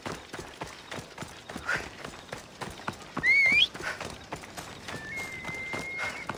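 A horse's hooves clop in a fast, regular rhythm while galloping in the video game Assassin's Creed Odyssey, fairly faint and continuous, with a brief whinny-like call and some game effects over it.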